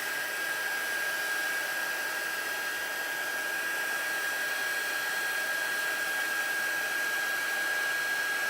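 A heat embossing tool blows hot air steadily over embossing powder, producing a constant, even whooshing hiss with a faint whine, close by and unbroken throughout.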